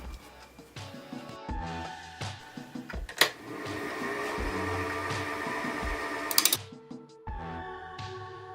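Spalted oak spinning on a wood lathe at about 900 RPM, a steady mechanical whir with scraping tool contact building through the middle, a sharp knock near the start and brief rattling bursts toward the end.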